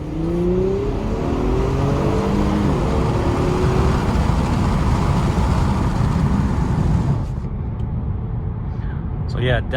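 A 2020 Infiniti Q60 Red Sport 400 pulls hard on a test drive from inside the cabin, its engine rising steadily in pitch under a loud roar before easing off. A brief clicking follows near the end.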